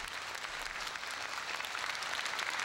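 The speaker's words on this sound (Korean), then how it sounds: "그 벅찬 사랑에 뜨거운 박수로 화답했다" Warm, dense applause fills a church gathering in Pyongyang, a steady wash of many hands clapping together without pause for the whole stretch.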